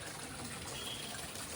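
Water gushes steadily from a tap or pipe, a continuous broadband rush with no speech, on a rural farm in Punjab.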